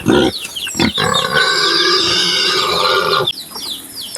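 A pig squeals loudly and continuously for a few seconds, with grunts and snorts before and after, close by.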